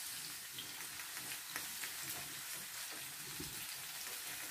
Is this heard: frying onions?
yes